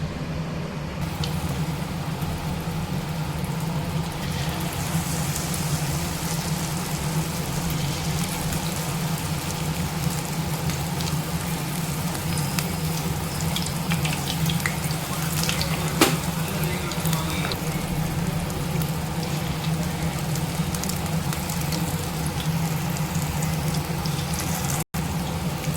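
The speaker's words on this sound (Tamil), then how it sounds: "இதேமாரி எண்ணெயில் போட்டு பொரிச்செடுக்கலாம்." Cauliflower bajji deep-frying in hot oil gives a steady, continuous sizzle and bubbling that stays even throughout, close and moderately loud, with occasional faint clinks and no voices.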